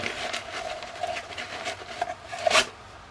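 A metal canteen cup slides into a Maxpedition canteen pouch with faint rubbing and scraping and a short, sharper scuff near the end, close and quiet.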